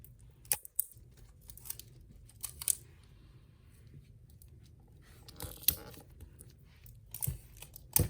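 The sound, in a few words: tape being torn and applied to a zipper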